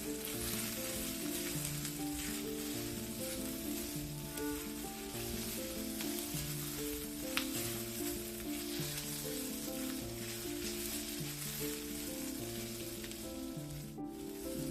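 Peppers sizzle steadily in a hot pan as they are stirred, a continuous bright frying hiss that stays even and close throughout, with background music playing over it.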